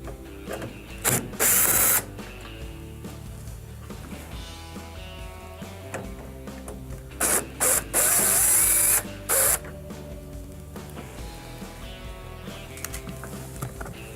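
Number 2 Phillips screws come out of the grill of a Whirlpool microwave under a power driver, loud close bursts of ratcheting whir separated by quieter handling and clicks.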